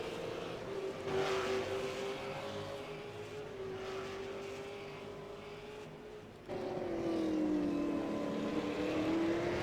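V8 Supercars race cars, including a Holden, roar around the circuit during a 2017 race, a continuous loud engine drone with shifting pitch that surges louder partway through as cars pass close.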